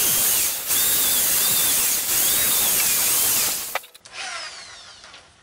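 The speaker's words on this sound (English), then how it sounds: "So we're going to drill some pilot holes in that wood because we don't want it split." A power drill bores pilot holes into wood, a loud, steady whining drone with wavering pitch that runs for several seconds, then cuts out, leaving a few brief ratcheting clicks and a fading spin-down, with no voices.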